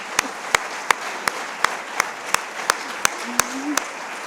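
Audience in a church-related gathering claps in a sparse, evenly spaced rhythm, about a dozen sharp claps over a few seconds with a faint voice briefly underneath.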